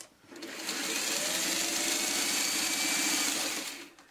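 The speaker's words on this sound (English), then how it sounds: "So I'm just going to quickly run this through the sewing machine." A sewing machine runs in one steady burst, its needle whirring in a rapid even rhythm for a few seconds before slowing to a stop.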